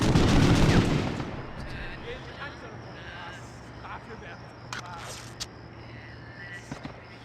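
A loud burst of gunfire from the PlayStation World War II shooter Medal of Honor: Underground opens the moment, then gives way to quieter game ambience, footsteps and small clicks, with a person talking.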